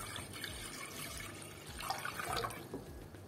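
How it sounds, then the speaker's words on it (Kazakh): About one and a half to two litres of water is poured from a vessel into a large bowl in a kitchen, a soft, steady splashing stream that rises briefly in the middle, faint and close. "Суымызды да құйып алдық."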